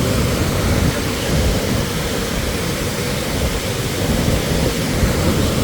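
Loud, constant rushing roar of Margalla waterfall, a dense unbroken wash of noise with no pauses.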